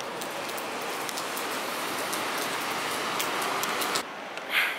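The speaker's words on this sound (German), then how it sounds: "jetzt regnet das auch noch" Steady rain falls on a cold day in Taipei, a dense even hiss of drops on hard surfaces close by, with a few louder patters and a brief dip near the end.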